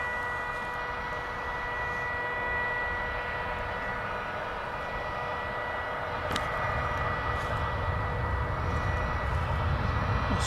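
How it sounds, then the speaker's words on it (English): American Airlines airliner departing Dallas Fort Worth airport for Mexico City, a steady, loud jet engine roar that swells slightly as it continues. "This will be an American flight something or other to Mexico City."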